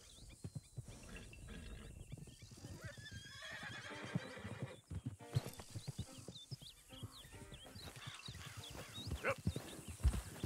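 Wild horses neigh and whinny repeatedly with clip-clopping hooves in the Red Dead Redemption 2 open world, the calls and hoofbeats fairly close and loud over a dense, continuous outdoor ambience.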